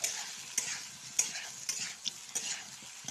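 Pointed gourd and potato frying in oil, a soft sizzle broken by sharp clicks and scrapes from stirring every half second or so, close but fairly quiet and with no speech.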